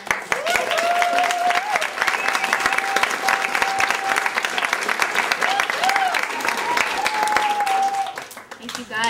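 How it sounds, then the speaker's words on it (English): An audience at a children's theatre production of The Lorax gives sustained, dense applause lasting most of the stretch, with a voice carrying over it and the clapping tapering at the end. "I think we should give a round of applause to the parents and grandparents and friends."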